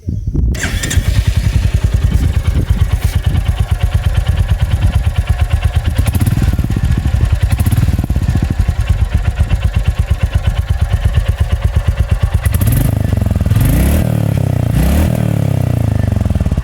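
A Royal Enfield Meteor 350 Aurora motorcycle with a single long chrome exhaust idles close by in a deep, steady thump, then gives a few throttle blips toward the end.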